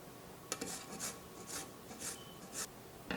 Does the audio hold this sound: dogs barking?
no